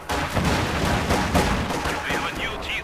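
Dense gunfire and artillery crack and boom in the Company of Heroes 2 battlefield: rapid, overlapping loud bursts fill the moment without pause, with a few higher shrieking tones near the end.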